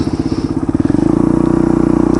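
A dual sport motorcycle engine thumps loud and close while riding, its pulses quickening into a faster, even beat as the revs rise.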